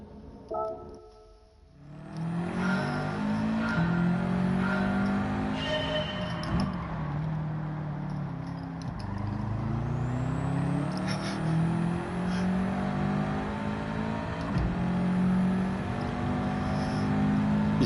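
A Red Bull race car in Gran Turismo 7 accelerating and shifting through gears, engine rising and falling in repeated revving sweeps, loud and close, with no talk.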